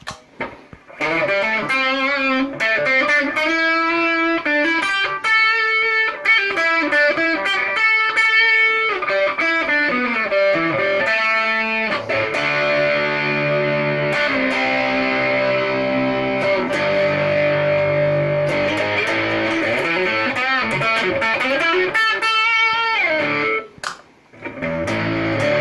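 A Gibson SG electric guitar played through distortion, ringing chords and long sustained notes, loud and continuous with no voices.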